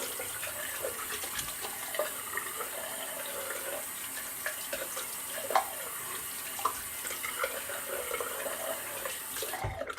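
A bathroom tap runs steadily into a sink during a wet shave, a continuous close hiss of flowing water for the whole stretch, with a few faint splashes and no talking.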